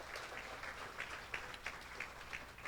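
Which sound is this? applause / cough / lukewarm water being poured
applause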